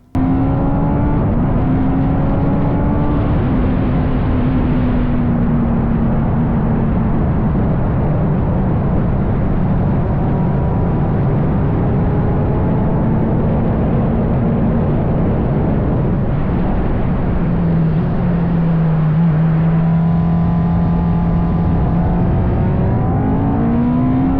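A Norma M20b race car drives on a circuit, its engine tone rising and falling steadily through gear changes across the whole stretch, loud and close with no talking.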